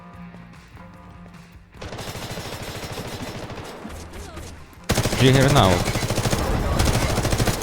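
Rapid automatic gunfire from the video game Delta Force, loud and sustained in bursts, with a voice speaking Ukrainian over the action.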